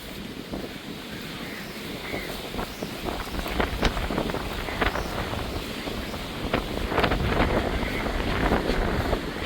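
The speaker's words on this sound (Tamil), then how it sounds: "காற்று எவ்வளோ வலுவாக இருக்குதுண்டு அதைத்தான் இன்றைக்கு காணொலியாக காட்ட போகிறோம்" Strong storm wind at the seashore in Jaffna, Sri Lanka buffets the microphone in a constant rough roar, with the wash of surf beneath and occasional gusty thumps.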